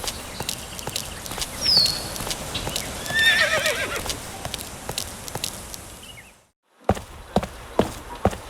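A horse in the riding video game Saddle Up neighs with a few high whinnies over steady clip-clopping hooves, then falls silent before several sharp hoof thuds.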